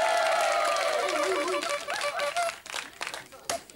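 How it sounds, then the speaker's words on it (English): Studio audience applause on a 1995 British TV chat show, a dense wash of clapping that starts loud and gradually thins out into scattered claps and crowd noise, with a host's voice cutting through. "Give them a nice round of applause again."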